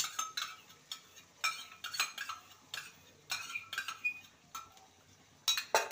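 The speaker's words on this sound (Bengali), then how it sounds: "ভালো করে নেড়ে নেব।" A spoon scrapes and clinks against a pan while yogurt is stirred into a spice masala, with soft irregular taps and scrapes at low volume and no talking.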